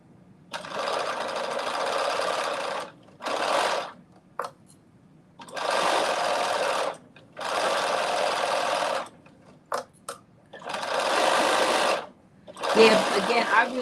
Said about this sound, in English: so continuing to sew all the way around